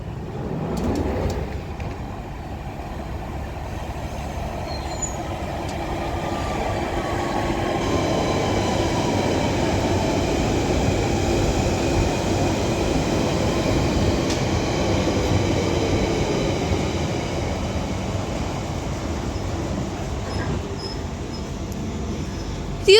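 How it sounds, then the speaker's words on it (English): A London Underground Central Line 1992 stock train pulls into South Ruislip, a steady rumbling roar of wheels and motors that swells and holds close by, with faint squeals over the noise. "Now arriving in is going to be another London Underground Central Line 1992 stop for West Ruislip"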